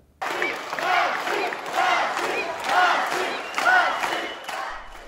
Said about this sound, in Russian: Вот так юные болельщики реагируют на каждое удачное действие своего любимца.